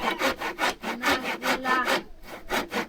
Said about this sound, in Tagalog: Lagari.